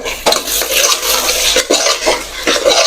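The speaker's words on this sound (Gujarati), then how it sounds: "તો હવે આપણે તેને પણ સારી રીતે હલાવી લેશું" Close, loud scraping of a spoon stirring red chilli powder and spices in a pan, several quick strokes over a soft sizzle.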